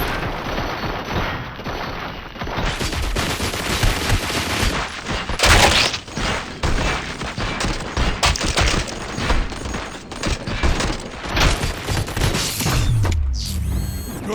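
Sustained rapid gunfire and bursts from a shootout in the video game Robocop: Rogue City, loud and dense throughout with mechanical clatter and booms, no talk.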